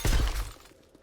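Glass shatters in a video game, one sharp, close crash with a brief tinkling decay that fades within a second.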